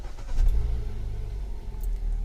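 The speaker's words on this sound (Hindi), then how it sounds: "चलिए मैं इंजन को स्टार्ट करता हूँ।" A Hyundai i20 car engine starts and settles into a steady low idle rumble, loud and close, with no voices present.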